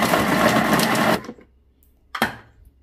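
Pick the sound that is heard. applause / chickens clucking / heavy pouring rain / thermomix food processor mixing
thermomix food processor mixing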